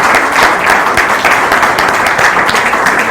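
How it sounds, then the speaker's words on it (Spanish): A live audience applauds steadily for a person during a talk, a dense, sustained wash of clapping close and loud with no gaps. "también les quiero un aplauso para él"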